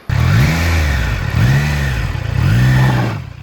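A Triumph Trident 660 motorcycle engine revs three times in a steady rhythm, each burst of throttle rising and falling in pitch, loud and close with no talk over it.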